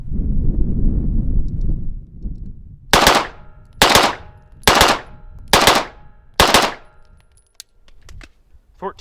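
Five sharp handgun shots crack in a quick, evenly spaced string at an outdoor range, fired at a 21-yard target, each loud and close with brief decay, after a stretch of low wind rumble.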